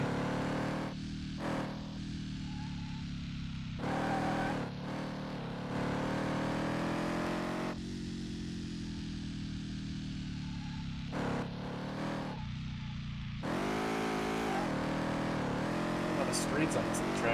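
Truck engine driving in the video game Car Mechanic Simulator 2018, a steady droning motor hum that rises and falls with throttle across the clip, with a person talking over it at several points.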